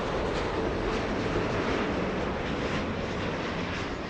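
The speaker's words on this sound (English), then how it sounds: "It's the plane that sounds like a train." Cargo jet taking off at Los Angeles International Airport, a dense, roaring engine rumble with a rhythmic, train-like pulsing texture, steady and loud throughout with no voices.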